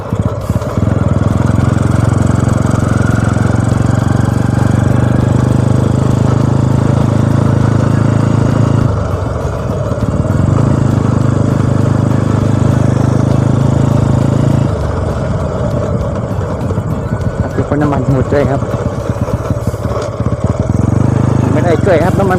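A Honda Wave 100 motorcycle engine drones steadily and close while being ridden at an easy pace with a sprocket set of 14 and 28 teeth; the pitch dips and recovers at gear changes, giving a continuous loud hum.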